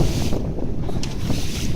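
A small sailboat pushes through short, choppy waves, with steady broadband water wash and wind buffeting the microphone throughout, continuous and fairly loud.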